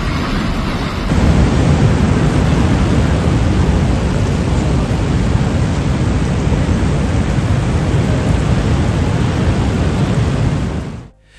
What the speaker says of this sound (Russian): Небо, затянутое тяжелыми тучами, разверзлось стеной проливного дождя.